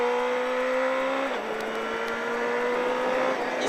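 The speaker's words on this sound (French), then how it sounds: "on redresse et on accélère." A car accelerating on a race track, a steady engine drone that dips briefly as if shifting gear, then climbs again, heard from close by without talk.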